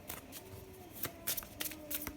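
Tarot cards are shuffled by hand close up, giving quiet, repeated riffling and slapping bursts in an irregular rhythm over a soft room hum.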